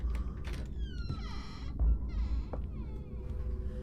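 A door creaks open in a Fortnite horror map, a close drawn-out wooden squeal in several rising strained bursts over a low background rumble, with no talking.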